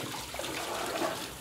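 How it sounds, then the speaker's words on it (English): Water from a tap runs steadily during handwashing in a kitchen, a soft continuous trickle and splash at close range with no talk over it. "I'm just going to have a little wash my hands."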